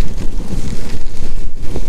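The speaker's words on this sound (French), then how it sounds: "j'ai un petit vent dans le dos léger" Steady low rumbling of a light tailwind buffeting the microphone outdoors on the way toward Mont-Saint-Michel, continuous and fairly loud throughout with no voices.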